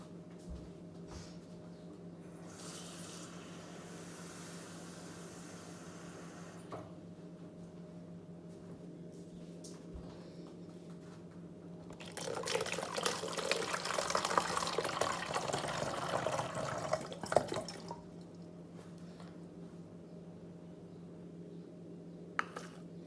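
Water pours from a tap into a measuring cup for a few seconds midway, a faint hissing splash over a low steady hum, with quiet stretches before and after.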